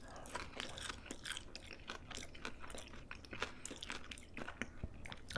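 Close, crisp chewing of crunchy tater tots alongside an egg muffin sandwich, with steady crunching and bites over a soft background hiss and no talking.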